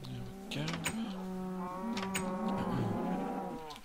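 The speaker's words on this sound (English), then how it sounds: "Sorry about the noise of the cows." Cattle mooing in the video game Minecraft, several overlapping low drawn-out moos from more than one cow, steady and fairly loud across the whole stretch with no talking.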